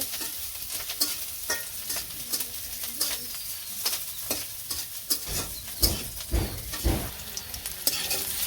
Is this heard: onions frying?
yes